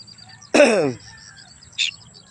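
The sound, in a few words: birds calling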